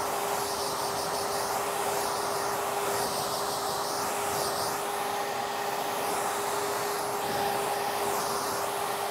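A hair dryer blows a model's hair straight while a brush works through it. The airflow makes a loud, continuous whoosh with a steady motor hum that runs unbroken throughout.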